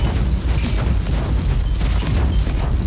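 Plasma cannon blasts boom in the Warhammer 40,000: Inquisitor - Martyr video game, a dense, continuous barrage of loud booms and crackling bursts with faint high-pitched effects over the top.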